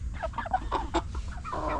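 Meat chickens in a backyard flock cluck in soft, irregular bursts, a few birds close by, with a low hum underneath.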